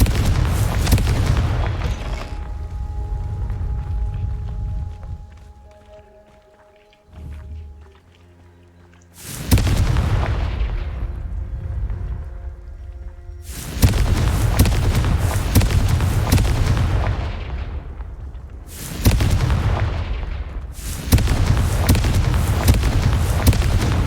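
Repeated Confringo blasting-spell explosions in the Hogwarts Legacy video game: several loud, booming bursts with long rumbling tails, each separated by short quieter gaps, with no talking.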